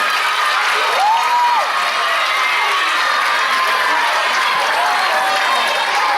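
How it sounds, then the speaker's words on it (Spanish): At a school charity concert at Colegio Cervantes in Canals, an audience of pupils, teachers and families claps and cheers in a loud, continuous wash, with a few shouts rising above the applause. "Un aplaudiment per a Ximo"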